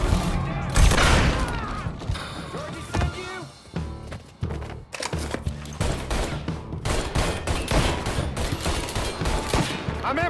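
Rapid gunfire bursts crackle through a Mafia III shootout, loud, close volleys repeating in quick clusters with brief gaps, voices talking under the shooting.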